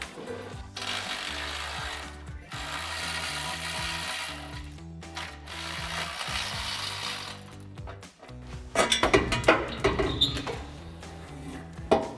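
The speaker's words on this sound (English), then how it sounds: "So I'm grabbing a 15mm socket on my ratchet to remove them." A ratchet fitted with a 15mm socket loosens exhaust flange nuts on a RAM 1500, its quick clicking bursts coming close and loud in the last few seconds after a long steady tonal background.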